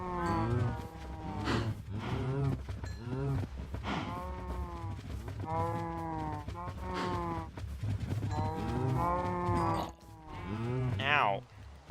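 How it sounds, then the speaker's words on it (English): Minecraft cows low again and again in a long string of drawn-out moos, with baby cows among them, close and loud throughout with other game noises mixed in. "Turning out baby cows here."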